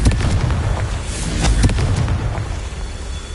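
A Confringo fire spell in Hogwarts Legacy goes off as a loud, crackling burst, with several sharp pops layered over a steady low rumble across a few seconds.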